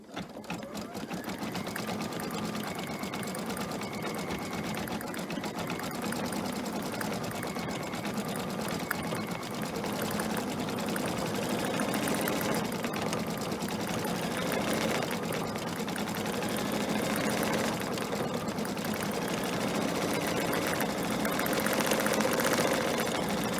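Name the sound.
embroidery machine stitching blue thread text on flag banner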